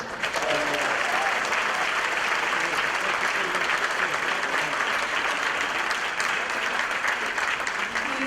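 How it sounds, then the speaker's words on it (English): A banquet audience at the Syracuse NAACP Freedom Fund Dinner applauds as a guest joins them. Sustained, dense clapping from a large room holds steady and loud throughout, with a faint murmur of voices beneath. "A round of applause for Mr. Van Robinson as he joins us."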